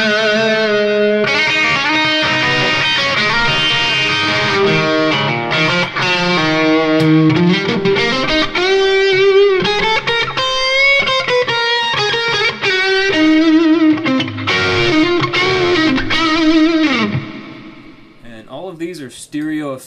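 Distorted electric guitar through a Yamaha THR10 amp on its plate reverb setting, loud, with chords and lead lines ringing into a washy reverb tail that fades out near the end.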